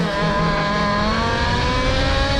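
Talaria Komodo electric motorbike running in eco mode, a steady close whine with layered tonal hum held evenly throughout, no talking.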